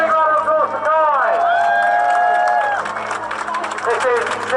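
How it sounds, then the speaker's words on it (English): A crowd claps and cheers for parachutist Kai Fisher as he descends trailing a smoke canister, with steady broadband clapping that builds after a few seconds under a loud amplified voice and sustained tonal sounds. "Big round of applause for Kai!"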